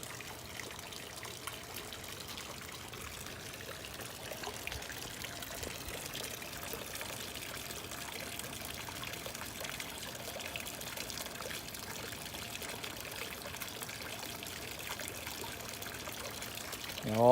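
Water flowing steadily through a hose, a continuous soft pouring and trickling sound, fairly faint and unbroken throughout.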